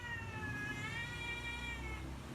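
A cat lets out one long, drawn-out meow that rises slightly and holds for over a second, heard over a steady low background hum with no speech.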